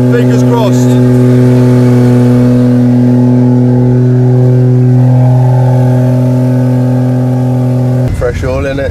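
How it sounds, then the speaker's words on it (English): A stationary drift car holds a loud sustained high rev while its wheels spin to warm the gearbox oil, a steady droning engine note close by that drops off near the end as people talk. "we're just currently basically warming the gearbox up, spinning the wheels to try and get the oil a little bit hotter"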